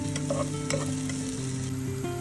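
Onion, chopped garlic and sliced ginger sautéing in hot oil in a pan, a close, steady sizzle with soft stirring scrapes and clinks throughout.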